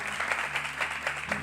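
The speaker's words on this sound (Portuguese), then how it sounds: "Queria que pudesse aplaudir" An audience applauds steadily, a dense wash of clapping from a crowd in a room.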